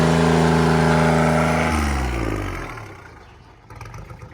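A Kubota L3408 tractor engine fitted with a racing exhaust revs hard and steady, then winds down and drops off. It is loud and close, with a small blip near the end.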